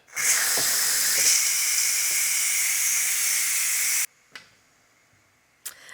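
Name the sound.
steam hissing during manual pressure release of Ninja Foodi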